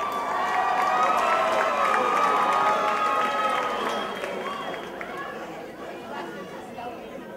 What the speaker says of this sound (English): give a round of applause for the 3 o'clock parade